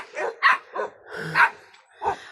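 A dog barks several times in quick, uneven bursts, with sharp yips between them, close and fairly loud.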